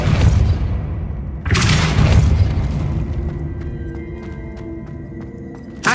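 A Depulso force spell cast in Hogwarts Legacy bursts out as a loud, booming blast at the start and surges again mid-clip, then decays into a ringing magical shimmer with scattered sparkles.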